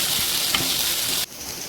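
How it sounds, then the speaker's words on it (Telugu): Green chillies hitting a spoonful of hot oil in a pan for gobi manchurian, giving a steady loud sizzle and crackle that drops to a quieter hiss near the end. "ఇప్పుడు ఇంకో పాన్ పెట్టి 1 స్పూన్ ఆయిల్ వేసి వేడి చేసి పచ్చిమిర్చి వేస్తున్నాను"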